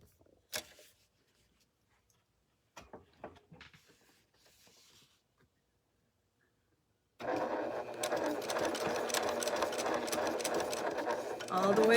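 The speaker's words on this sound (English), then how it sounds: "I'm sewing from the wrong side of the garment" Sewing machine stitching a garment from the wrong side near a pocket: a few faint clicks and handling noises, then a steady, close mechanical whir that runs without pause to the end.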